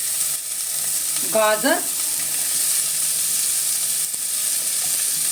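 Capsicum, corn, beans, carrot and green chillies fry in a pan for chicken soup, a steady loud sizzle filling the whole stretch, with a brief spoken word rising over it.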